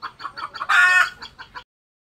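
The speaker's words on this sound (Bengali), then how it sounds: "মুরগিগুলো সব গাছে উঠে গেছে।" Chickens that have just been let out and have flown up into a tree cluck close by in quick bursts, with one louder drawn-out squawk, before falling briefly silent.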